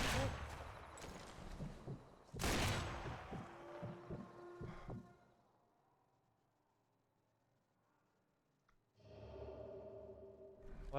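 Gunshots in the video game Sniper Elite 4, two sharp loud cracks with echoing tails and some softer thuds between them, followed by a quiet stretch and then background noise.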